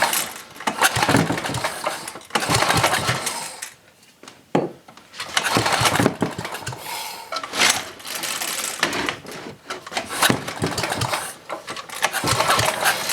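A 1987 Briggs & Stratton 8HP engine, dosed with carburetor cleaner, is cranked over repeatedly in loud bursts, each a rough churning pull that sputters without catching, separated by short pauses.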